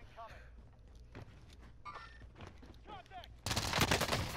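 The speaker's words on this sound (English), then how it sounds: "This PPSH is smacking though, I'm not gonna lie." A PPSh submachine gun fires in a first-person shooter video game in rapid bursts, with a louder sustained stretch of automatic fire near the end.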